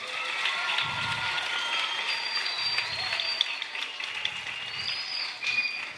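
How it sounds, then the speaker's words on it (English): School crowd applauding first-year primary schoolchildren at an anti-bullying campaign assembly in Trinidad, a steady, fairly distant wash of many hands clapping across the whole stretch, with faint background chatter. "So let's give them a round of applause."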